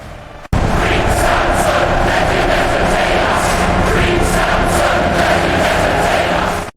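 A loud, dense crowd of Philistines roaring in celebration inside a hall, a continuous wall of massed voices with swelling cheers. It starts abruptly after a brief silence and holds at full volume for about six seconds.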